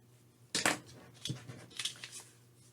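Scissors cutting paper at a craft table for a journal folio: two quick close snips followed by several softer crisp cuts and rustles, quiet background otherwise.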